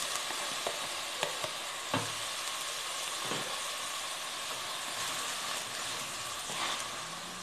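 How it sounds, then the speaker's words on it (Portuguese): Seasoning sautéing in a pan with salt as it is stirred, a continuous soft sizzle with occasional light scrapes and taps of a spoon, no talking. "Dá uma mexida aqui para esse sal misturar"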